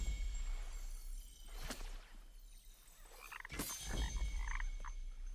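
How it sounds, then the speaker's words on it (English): Frogs in the video game Kena: Bridge of Spirits croak in a few separate bursts, fairly close and quiet, spaced irregularly over a soft ambient background. "Let me see if they croak in an order."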